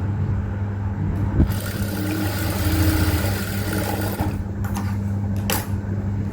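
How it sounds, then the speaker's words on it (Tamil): Sewing machine stitching a blouse seam, a steady mechanical hum and rapid stitch rhythm running close and continuous, with a few brief clicks and handling noises near the end. "அந்த 1/2 இன்ச்சில் தைச்சிக்க போகிறோம்"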